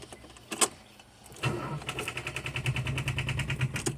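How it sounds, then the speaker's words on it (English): A 1977 Mercedes-Benz 450 SEL 6.9 being cranked over: a short click, a pause, then a rapid rhythmic churning of the starter that goes on without the engine catching, heard close. "Let's see if she'll start back up if I give her a little gas."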